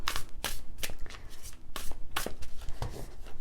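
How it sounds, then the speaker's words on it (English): Plastic Golden Thread Tarot cards being riffle shuffled close up, a series of crisp rapid fluttering bursts with short pauses between each riffle, no talking. "and riffle shuffle"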